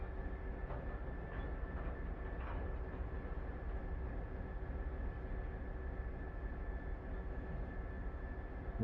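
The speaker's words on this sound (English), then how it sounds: "I can stop you seeing Train Sim Classic, but I don't really have any way to stop you hearing it." Train Sim Classic game audio of a train running, a faint continuous rumbling roll with soft clicks, steady throughout and far in the background.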